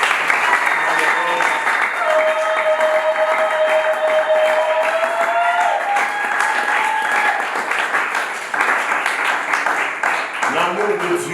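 A church congregation applauds during a sermon, loud sustained clapping with cheers and raised voices mixed in, and a tonal whistle-like line running under the crowd.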